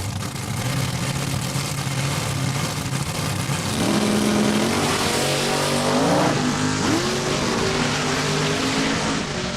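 Two drag race cars, a '67 Falcon and a Cuda, roar at a raceway, engines loud and sustained, with rising and falling revs as the throttle is worked on and off.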